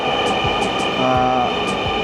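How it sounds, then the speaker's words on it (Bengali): A Dhaka Metro Rail train rumbles steadily in a station, with a low mechanical hum, faint clatter and a brief tonal whine as it comes to a stop. "অলরেডি মেট্রো রেলটি এসে আমাদের সামনে এসে পৌঁছালো"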